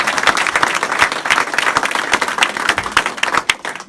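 A lively round of applause from a crowd gathered for the dedication of a Neighborhood Place named in a woman's memory, continuous dense clapping, fairly close and loud, with no speech over it.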